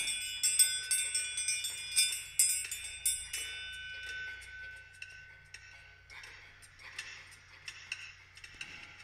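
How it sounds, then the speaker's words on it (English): A meditation bell rings softly several times in a quiet setting, each bright, shimmering strike fading into a lingering tone, with gentle decays and no talking. "As you hear my bell ring, you can let yourself drop down deep."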